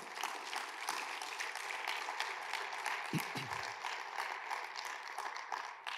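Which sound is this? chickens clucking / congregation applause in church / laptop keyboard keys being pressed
congregation applause in church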